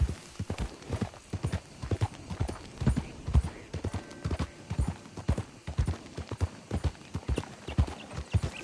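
Steady, rhythmic horse hoofbeats clop along at a walking pace, close and clear, with a faint outdoor ambience behind them, from the video game Red Dead Redemption 2.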